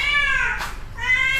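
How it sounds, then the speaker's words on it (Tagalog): A very vocal cat gives two drawn-out, whiny meows close by, one after the other with a short breath-like break between them. "Yan, pinakamaingay na pusa."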